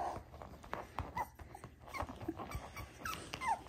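Puppies whimper softly in short, high, scattered whines over quiet background rustling and pattering, with no voices.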